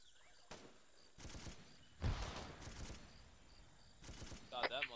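Gunfire during a Vietnam-era Navy SEAL combat mission in a video game, several sharp bursts and volleys spaced over a few seconds, with a low broadband roar in between.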